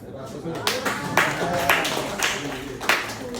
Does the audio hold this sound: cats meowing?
no